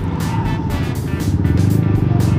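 Steady car traffic rumbles along a road near Subic in Olongapo, Zambales, a continuous close engine and tire drone that swells slightly as vehicles pass, with no talk over it.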